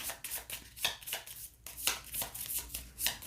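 A deck of Five Nights at Freddy's: Survive Till 6AM board game cards is shuffled close by, giving a run of sharp, evenly spaced riffling slaps with brief pauses between them.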